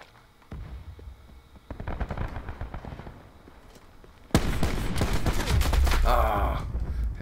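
Sniper rifle fire in the video game Black Ops 4, sharp gunshot bursts and crackling reports in quick clusters, growing louder and denser toward the end.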